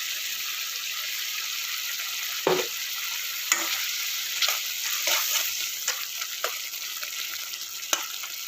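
A pan of mushroom gravy simmers with a steady sizzling hiss, scattered bubbling pops and a few soft stirring scrapes, close and continuous.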